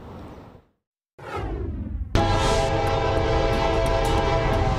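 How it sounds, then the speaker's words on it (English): A train rolls through downtown Cartersville with a loud, sustained horn blast after a brief gap of silence, the heavy rumble of the cars continuing steadily beneath it. "It's hard to miss the train in downtown Cartersville. It passes through here all the time and makes plenty of noise."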